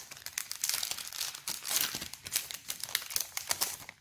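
A Pokémon trading card booster pack being torn open by hand, with close, loud crinkling of foil wrapping and rapid rips that come in bursts over a few seconds, no voices.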